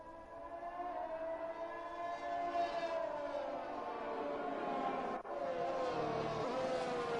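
Race cars on a formation lap at Bahrain: a steady, fairly distant engine drone with shifting pitch, several cars blending into one sustained whine that dips briefly near the end.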